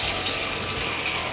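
Tap water runs in a steady, loud, close gush while a raw chicken from the market is rinsed under it, with no talk over the flow.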